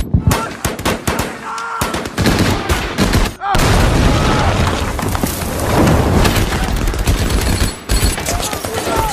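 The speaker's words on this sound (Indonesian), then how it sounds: "Akhirnya Norman memberanikan diri untuk menembaki tentara Nazi." Machine-gun fire rattles through a battle scene in the 2014 World War II film Fury. Dense, loud, continuous bursts with scattered booms run almost without pause.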